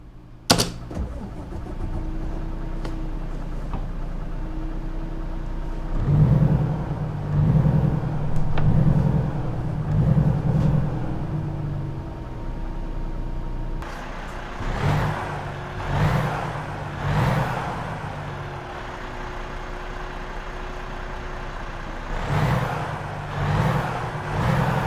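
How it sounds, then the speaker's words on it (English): A Cummins-powered Volvo VNL semi truck in American Truck Simulator cranks and fires up, then settles into a steady diesel idle with periodic throbbing revs and hissing air releases, heard alone without talk. "I'll go ahead and stop talking while I fire it up just so you can hear the engine sounds for the Cummins"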